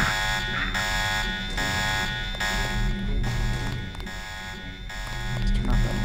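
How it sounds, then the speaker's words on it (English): A repeating electronic alarm in the Deus Ex video game, a steady pulsing buzzer tone sounding in regular bursts about once per second, loud and continuous over low in-game background noise. "Let's turn off that alarm."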